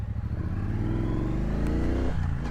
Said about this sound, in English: I'm on this beautiful Triumph Bonneville Bobber, the black.